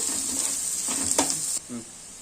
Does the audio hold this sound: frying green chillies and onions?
yes